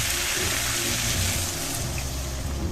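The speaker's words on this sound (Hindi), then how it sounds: "पानी डाला हम लोग।" Steady broadband rushing and sizzling of water poured into a hot pan of fried vegetables, continuous and fairly loud throughout.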